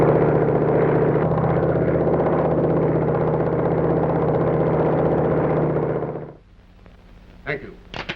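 A propeller plane drones steadily and loudly in a 1934 film scene, a continuous engine hum that cuts off abruptly, followed by brief faint voices and rustling.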